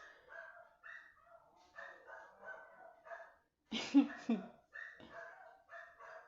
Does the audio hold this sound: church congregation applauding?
no